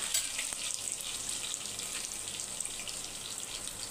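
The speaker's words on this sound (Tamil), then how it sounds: "பூண்டு வந்து நல்லா பொரியணும்." Steady, continuous sizzling of garlic frying in hot oil, with a bright crackling hiss running throughout and no talking.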